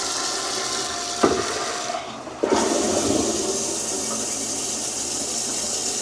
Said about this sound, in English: You guys want to see the flush? Like water comes shooting out of that hose in there.